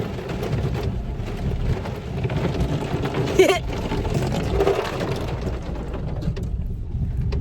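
Heavy rain falling outdoors, a steady loud wash of noise with a short louder burst partway through, accompanied by faint voices.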